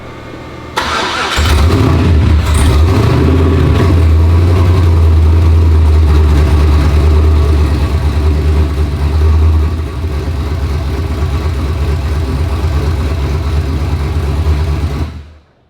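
A car engine fitted with Holley EFI and with a major exhaust leak cranks and catches, then settles into a loud, rough idle that rumbles steadily for over ten seconds before cutting off.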